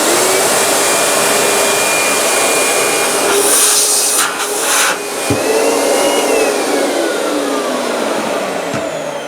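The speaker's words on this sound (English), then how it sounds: "let's check the suction motor" A Hoover Jet & Wash multifunction vacuum cleaner runs its suction motor at full power, a loud, steady high-pitched whine and rush of air close by, with a brief dip in pitch midway and no talking.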